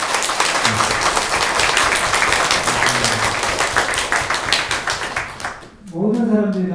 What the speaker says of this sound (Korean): 이 박사님 소개할 때에 큰 소리로 여러분 박수 하시고 환영해 주시면 감사하겠습니다.